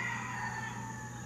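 Roosters crowing among chickens at Loretta Lynn's childhood home, a sustained, fairly faint, distant crow lasting the whole moment over steady outdoor background, with no talk.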